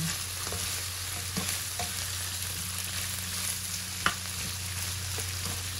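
Bitter gourd (ampalaya) is sautéed in a pan, giving a steady close sizzle with occasional soft scraping and stirring taps.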